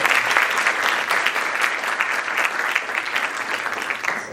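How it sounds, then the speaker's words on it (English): Sustained applause from a conference audience at an opening ceremony, dense steady clapping filling the room for several seconds with no talk over it. "Big round of applause for them"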